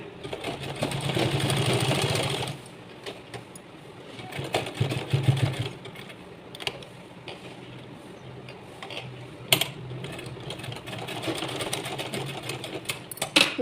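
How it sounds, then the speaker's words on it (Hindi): A sewing machine stitches a sleeveless blouse in short close bursts: a loud whirring run at the start, then intermittent stitching with mechanical clicks and pauses, no voices. "कुछ इस तरीके से हम इसमें सिलाई लगाएंगे।"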